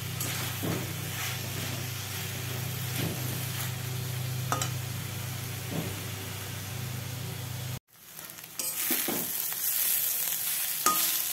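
Prawns sizzle steadily in a hot pan while being sautéed and stirred, with periodic scraping strokes over constant frying hiss; the sound briefly cuts out, then the sizzle resumes.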